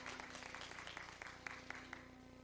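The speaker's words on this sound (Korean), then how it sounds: "박수 한번 쳐줘봐요." Faint, brief patter of applause from a church congregation at a Sunday service, scattered claps in a quiet room.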